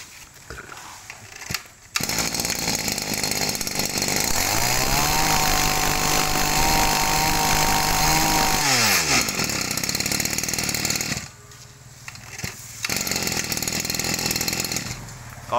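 A Japanese Shindaiwa brush cutter's small two-stroke engine runs loud and close, holding a steady high whine that revs up into a sustained buzzing peak for several seconds before dropping back, then briefly rising again.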